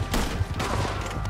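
Rapid volleys of gunfire in Red Dead Redemption 2 fill a short, dense burst of repeated loud shots with no pauses.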